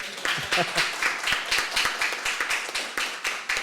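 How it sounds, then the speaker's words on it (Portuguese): Audience applause closing a session at a cooperative legal finance training event, a small group clapping in a quick, fairly uneven patter at moderate volume, with some talking mixed in. "a todos uma salva de palmas"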